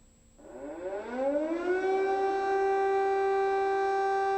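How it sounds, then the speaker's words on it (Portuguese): An air raid warning siren winds up from low to a steady, loud wailing tone that holds on alone with no other sounds. "Sirenes de alerta de ataque aéreo soaram em toda a Ucrânia."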